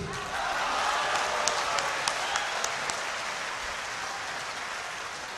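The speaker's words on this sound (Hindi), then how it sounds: "आपने गलत जगह तालियां बजा दी" Sustained applause from a mushaira audience at a Lucknow festival, a dense steady wash of clapping lasting several seconds with a few sharper claps standing out, no voices over it.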